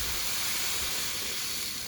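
Blender blitzing regular granulated sugar, a steady loud whirring hiss that runs unbroken and close for a couple of seconds.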